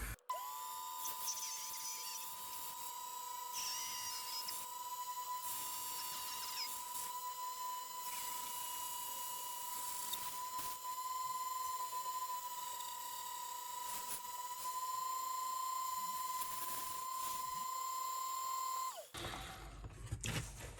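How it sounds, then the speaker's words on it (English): A lathe cuts away excess material from the boss of a slot car gear, giving a steady high whine with a sustained tone and scraping cutting noise, continuous for about nineteen seconds before stopping abruptly. "I've got it mounted in my lathe and I'm about to remove most of the excess material from the boss of the gear"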